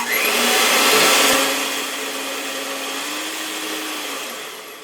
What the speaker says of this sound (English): So we're going to use a blender here, and we're going to start blending this up.